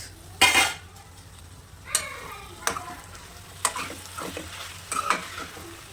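A pan of brinjal, tomato and drumstick curry is stirred over a medium flame, with a few sharp spoon scrapes against the metal over a soft background sizzle. No voices.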